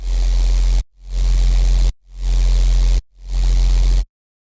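Harsh, distorted synthesized sub bass made in Phase Plant, in four sustained bursts, each cut off sharply, with a heavy fuzzy buzz spread across the whole range.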